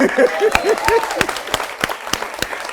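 An audience at a talk gives a thin, scattered round of handclaps, with a handful of sharp, separate claps spaced across a few seconds. A voice speaks over the first part.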